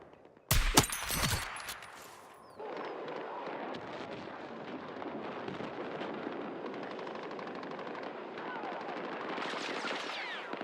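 Rapid machine gun bursts in a military shooter video game, a sharp loud volley at first followed by sustained distant gunfire and battle rumble that rises again toward the end.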